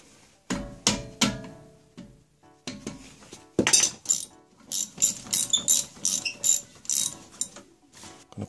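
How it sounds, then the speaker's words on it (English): A ratchet works on a brake caliper bolt of a Mercedes, producing bursts of close metallic clicking and clanking in uneven runs, with brief pauses between strokes. "loosen up this caliper."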